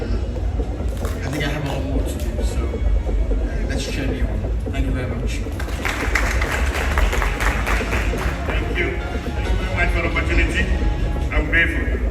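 An audience at the live launch of a royal millennium excellence awards event applauds and cheers, a dense, continuous wash of clapping and crowd noise that runs throughout under a loud speaking voice.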